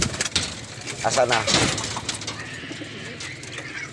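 Pet homing pigeons coo and flutter at their loft as a bird returns home, the soft cooing mixed with outdoor noise while someone speaks briefly.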